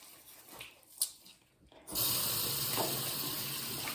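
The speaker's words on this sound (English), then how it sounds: "I'm gonna wash my hands real quick." Tap water gushes steadily into a sink as hands are washed, starting abruptly partway through and running loud and continuous to the end after a quieter, muffled stretch.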